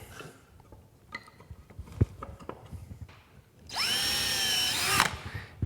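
After a few soft knocks and handling sounds, a power drill whines up close for about a second, biting steadily into wooden xylophone keys before stopping.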